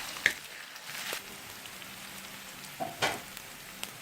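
Onion and ginger garlic paste frying in a pan for a Malabar chicken biryani: a soft, steady sizzle with a few scattered clicks and scrapes of a stirring spoon, quiet and close, no voices.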